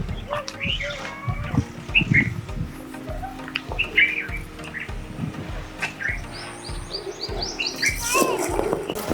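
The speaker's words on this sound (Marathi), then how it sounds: "पक्ष्यांची किलबिलाट" Several birds chirp and tweet in short, scattered calls at the Shri Kshetra Vetalguru temple grounds in Khanapur, Sangli, with a low murmur and soft background sounds underneath.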